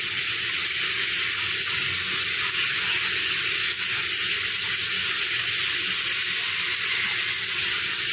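Okra frying in a pan with turmeric gives a steady, continuous hiss and sizzle that holds an even loudness throughout, with no voices.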